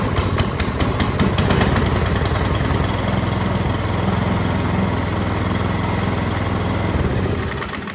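A Craftsman 24-inch snow thrower engine is pull-started and catches almost at once, settling into a loud, steady small-engine chug heard up close with no talk, then fading slightly near the end.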